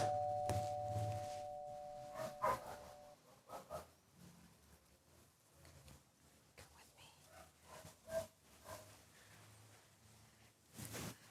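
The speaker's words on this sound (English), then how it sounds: "So I hope you're ready because I hear a doorbell." A doorbell chimes near the start with clear sustained tones, followed by scattered knocks, shuffling and background noise through the rest of the segment.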